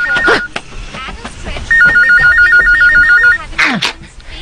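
A telephone rings with a warbling electronic trill, one long burst between scattered background sounds and brief voices.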